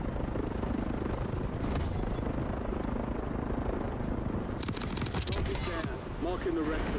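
A helicopter in Call of Duty Warzone thrums continuously with a loud rotor drone, while bursts of gunfire and game sounds break in near the end and a voice talks over it.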